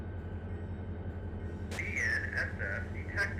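Freight train in the Run 8 train simulator game approaches with a steady low rumble, then sounds its horn in a loud sustained blast followed by shorter toots.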